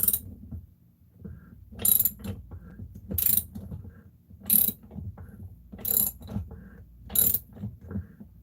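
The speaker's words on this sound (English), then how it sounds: "And this hand, use a ratchet." Ratchet wrench turning a bolt on a Stihl 362 chainsaw, quiet clicking strokes repeating about every 1.3 seconds, each ending in a sharp metallic burst, with no talking.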